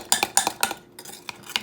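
A spoon scrapes and clinks against the sides and bottom of a mug while stirring egg into keto cinnamon bun mug cake batter, giving about five quick, close metallic taps in an irregular rhythm with brief pauses.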